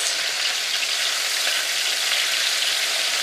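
Pork frying in a pan gives a steady, dense sizzle that holds level and close throughout, with no speech over it; any flip with tongs is not clearly separable in the continuous hiss.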